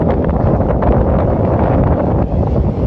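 Strong wind roars steadily against the microphone in Trinidad, Colorado, a loud, low buffeting rumble with no pauses and no voices.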